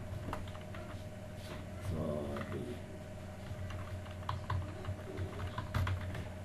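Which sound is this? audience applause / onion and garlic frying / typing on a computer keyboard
typing on a computer keyboard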